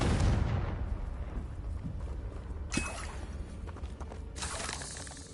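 A Confringo fire spell blast in Hogwarts Legacy on PS4, heard as a loud booming burst at the start that decays into rumble, followed by fainter crackling impacts and a later swell of noise.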